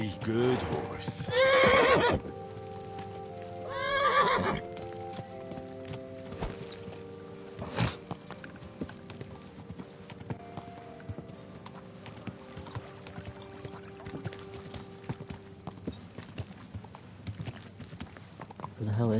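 A horse in Kingdom Come: Deliverance II whinnies loudly twice near the start, then its hooves clip-clop steadily in a long even walking rhythm over game ambience.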